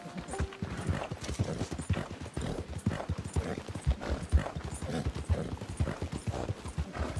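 Horse hooves clip-clopping steadily in the Red Dead Online video game, a continuous close rhythmic trot throughout with no talk.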